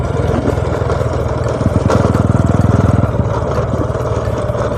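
A Honda Wave 100 motorcycle engine warms up at idle, a steady close chugging putter with a brief rise in revs near the middle, running alone without talk.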